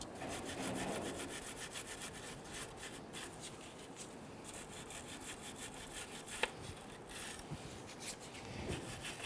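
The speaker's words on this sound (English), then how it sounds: "I'm going to go ahead and clean the shaft here with a little bristle brush" A small bristle brush scrubs the shifter shaft of a 2006-2010 Hummer H3 during a neutral safety switch replacement, giving a steady, close scratchy rubbing with quick repeated strokes and one sharp tap near the end.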